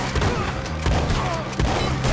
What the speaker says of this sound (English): What the heck is that shotgun?